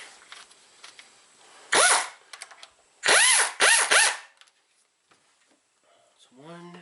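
Air tool driving bolts into a Suzuki V6 truck engine during a timing tensioner replacement: three loud, short bursts of whirring rattle, one alone and then two in quick succession, with faint talk at the end.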